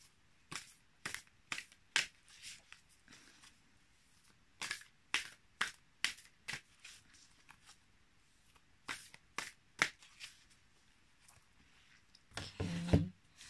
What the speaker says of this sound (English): Shuffling these big cards.